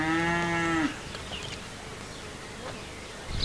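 A docile island cow moos once in a field, a low drawn-out call under steady buzzing insects. Outdoor noise and faint scattered sounds continue after the call ends.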